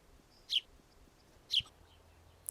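Two short, sharp chirps spaced about a second apart, followed by a faint third one, from sparrows on the Isles of Scilly against a quiet outdoor background.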